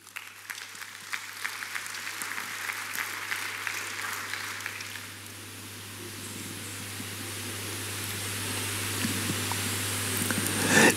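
A church congregation applauds during a Sunday service, a steady wash of clapping at moderate level that thins briefly midway and then swells again toward the end.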